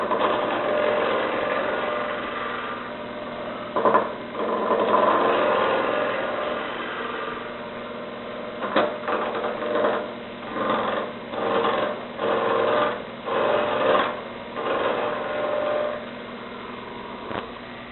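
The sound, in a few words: wood lathe turning a bat with a roughing gouge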